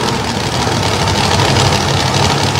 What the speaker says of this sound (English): I think he may be running with a hurt engine right now